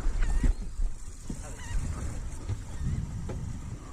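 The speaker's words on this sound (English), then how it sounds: "Watch out, birds." Goose-like honking birds call repeatedly near a fishing boat off Puerto Vallarta, several short honks at moderate distance over a steady background of water and engine rumble, with no talking.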